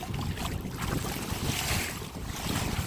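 Steady wind roars across the microphone while kayaking on the Intracoastal Waterway, a constant rushing gust with faint water wash beneath, loud and unbroken throughout.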